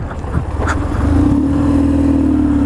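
A BMW R1150GS motorcycle pulls away, its boxer-twin engine rising from idle into a loud, steady droning rev close by, with a brief clunk just before it settles into a sustained hum.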